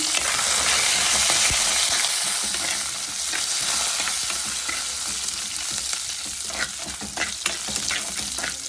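Curry leaves sizzle in a hot pan for a chicken and buttermilk curry, a loud, dense frying hiss with crackles and stirring scrapes that settles slightly but keeps going; no talk.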